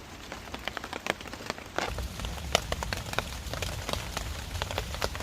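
Rain patters on leaves and surfaces in a wooded spot, a steady close hiss broken by frequent sharp individual drips and splats, with no voices.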